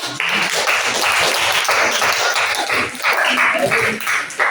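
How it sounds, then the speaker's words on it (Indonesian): A classroom group applauds together, a dense run of hand clapping in a teacher coaching session, filling the whole stretch at steady loudness before thinning slightly near the end. "pasti tepuk tangannya"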